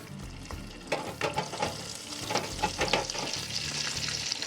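A first batch of six carnitas taquitos frying in 350-degree oil, a continuous bubbling sizzle with scattered crackles and pops, close and moderately quiet, with no voices.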